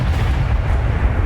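An Incendio fire spell cast in the Hogwarts Legacy video game lets out a brief, loud, dense whooshing roar of blasting flame that holds at full strength without a break.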